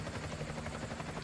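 A helicopter's rotor thrums steadily at a moderate distance, a continuous low beating drone with no voices.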